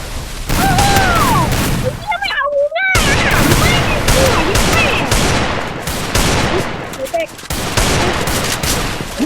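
Rapid gunfire in the battle game Free Fire, loud overlapping bursts and single shots filling most of the stretch, with a brief silent gap and excited voices talking over the shooting.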